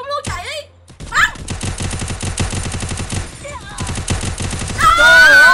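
Gunfire in the mobile shooter Free Fire comes as rapid automatic bursts, a dense rattle of shots repeating across the clip, loud and close, with game sounds and voices around it.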